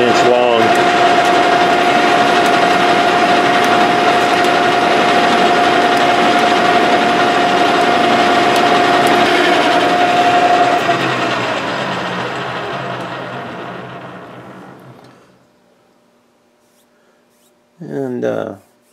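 A metal lathe turns a gearbox shaft at 715 RPM, a loud steady whine with a sharp high tonal line while cutting, then the cut ends and the machine winds down to near silence before a brief clatter at the end.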